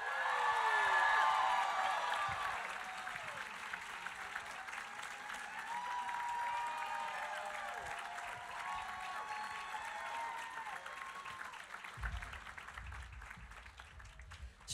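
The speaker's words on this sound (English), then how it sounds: "give them a proper round of applause" Sustained audience applause greets first baseman Matt Olson as he is introduced at a BravesFest Q&A. A dense, steady clapping crowd fills the whole stretch, loud and close, with no talking over it.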